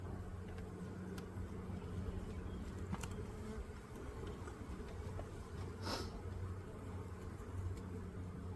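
Honeybees buzz around an opened hive in spring, a dense continuous hum with individual bees whining past close by, one passing especially near partway through, over faint background rumble.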